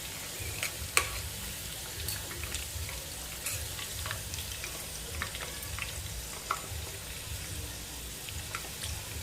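Chicken pakoda frying in oil over a low flame, a steady close sizzle with occasional sharp clicks and scrapes from stirring.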